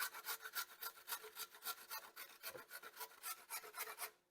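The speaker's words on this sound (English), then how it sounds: "I'm just going to grate it on the big side of my grater" A carrot is rubbed against the large holes of a box grater in about fifteen quick, regular rasping strokes, close and crisp, with no voices.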